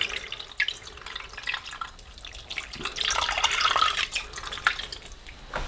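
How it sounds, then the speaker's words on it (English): Water poured into a slow-cooker pot holding bear meat, hawthorn berries and rose hips, a steady running splash that swells in the middle and then tapers, close by with no talk. "Add some water."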